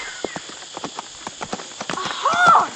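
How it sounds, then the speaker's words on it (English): A horse's hooves clip-clop in a steady run toward a village, the beats carrying through over a light musical background before a louder swell near the end. "A horse! And it's heading for the village."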